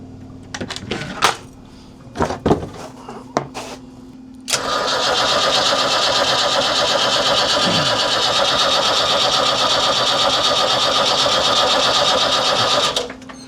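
A sailboat's engine is cranked from a remote start panel after a few clicks and knocks, then a steady, loud starter whirr grinds on for around nine seconds without the engine catching, before it cuts off.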